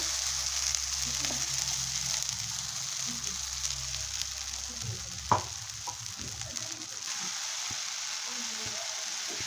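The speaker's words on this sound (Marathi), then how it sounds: "आता हा मसाला पूर्ण आपण भाजूया तेल फुटेपर्यंत" Ground masala fries in oil in a pan as a steady, close hiss of sizzling runs throughout, with one brief clatter of stirring partway through and no talk.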